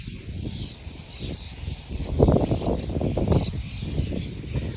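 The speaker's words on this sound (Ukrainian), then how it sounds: "Мій двір зараз це велика шпаківня." A large flock of starlings fills a yard with dense chattering and high whistling calls, a continuous busy chorus with bursts of wingbeat-like rustling, moderately close.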